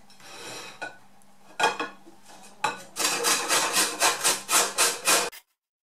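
Peeled carrots rubbed over a large kitchen grater: a few scattered scrapes open, then a run of about ten steady, loud rasping strokes in an even rhythm, stopping abruptly near the end.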